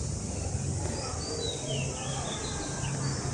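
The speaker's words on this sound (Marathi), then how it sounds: "पक्ष्यांचा किलबिलाट आहे" Faint bird chirps and short calls scattered over a steady outdoor hiss, a quiet early-morning atmosphere at Anganewadi with no talking.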